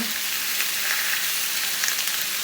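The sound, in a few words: garlic frying in a cast iron pan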